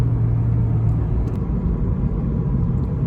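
A 1994-1998 Ford Mustang GT rolls over a bumpy road with train tracks, heard as a loud, steady low engine and road rumble from inside the cabin, without any talk.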